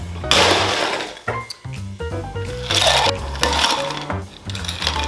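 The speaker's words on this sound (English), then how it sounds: "we shake it twice. One with ice and another called a dry shake without ice" A cocktail shaker full of ice rattles loudly and continuously as an espresso martini is shaken, with hard clattering bursts throughout.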